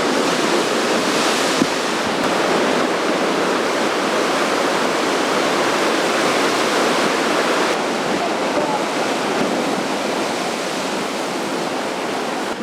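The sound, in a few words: river flowing along a Big Sur trail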